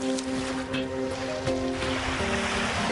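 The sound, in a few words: ocean waves on a beach in Mykonos, Greece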